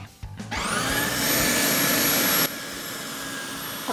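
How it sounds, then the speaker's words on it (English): A Sun Joe electric scarifier and lawn dethatcher, set to the 10mm raking position, starts up and runs with a loud steady motor whine and whirring, alone and close by. "Okay, so using the dethatcher,"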